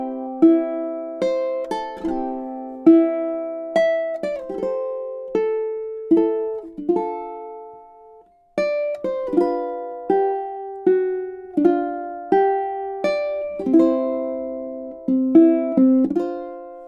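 Ukulele playing verse 2 of a song, measures 9 through 16, a steady run of plucked and strummed notes, clean and close, with a brief pause about halfway through.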